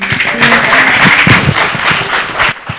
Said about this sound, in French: vous pouvez les applaudir s'il vous plaît plus fort